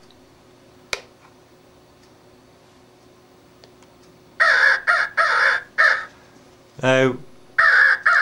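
A Cass Creek electronic crow caller plays loud, harsh crow caws through an extension speaker in several quick bursts, following a sharp click and a brief spoken word.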